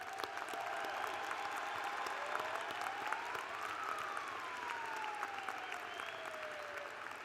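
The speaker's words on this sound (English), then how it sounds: "Please join me in showing our appreciation with a round of applause for all of their efforts." Commencement audience applauding steadily at a spring 2019 graduation ceremony, a dense, sustained wash of clapping filling the hall throughout, with a faint whistle-like tone gliding through the middle.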